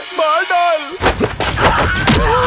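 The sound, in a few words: gunshots in film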